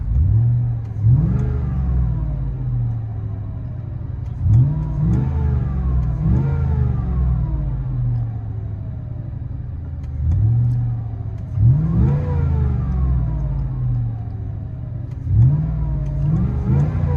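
A 2005 Cadillac Escalade's 6.0L V8 with a Dynomax Turbo muffler revs four times, roughly every five seconds, each deep rumbling surge rising and falling back to idle, heard from inside the cabin with no talk.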